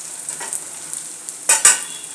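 Oil sizzles and crackles softly in a pan of cumin, mustard seeds, garlic, onions and curry leaves, with two louder bursts of frying and stirring near the end.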